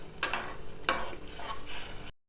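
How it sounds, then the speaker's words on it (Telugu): Sugar syrup is stirred in a pan, producing three or four soft scraping strokes at a steady pace over a faint background, with no talking. "మంచిగా పాకం వచ్చి తీగ పాకం వచ్చేదాకా మనం దీన్ని కలుపుకోవాలి."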